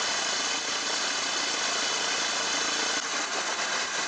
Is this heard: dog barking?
no